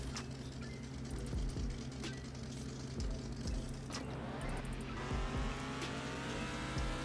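A rock crawler in the Offroad Outlaws video game climbs a ramp and jumps it, its steady engine drone running throughout with tire noise and bumps as it goes up and lands.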